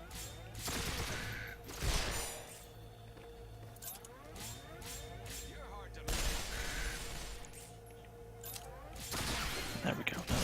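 Video game gunfire: repeated sharp shot bursts in clusters, with heavy broadband impacts and a continuous mechanical rumble, over a busy game soundscape with a voice speaking.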